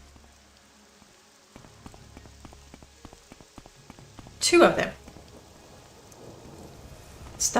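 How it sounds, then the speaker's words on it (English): Rain falling in the video game Morrowind, a steady soft hiss with scattered clicks throughout, a loud broadband burst midway, and a person speaking over it. "We are indeed suffering under the rain."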